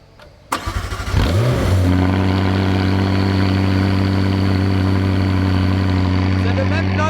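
A McLaren 600LT engine cranks and fires up loudly at close range, flaring briefly before settling into a steady, deep idle that holds for several seconds.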